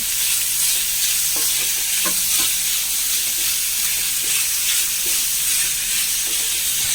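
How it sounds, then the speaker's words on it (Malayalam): Sliced large onion sizzles steadily in a hot pan, a dense continuous frying hiss with a few faint scrapes of stirring, close and fairly loud with no talking. "വലിയ സബോള ഒരെണ്ണം അതിട്ട് കൊടുക്കാം"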